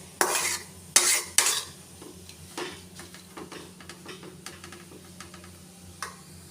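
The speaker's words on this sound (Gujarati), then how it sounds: "અહીંયા આપણે 1 થી 2 મિનિટ માટે થઈને દૂધી સાતળી લઈએ છીએ." Grated bottle gourd sautéing in ghee in a pan is stirred with a few loud, quick scraping strokes, followed by softer intermittent scrapes and light clicks over a faint background hum.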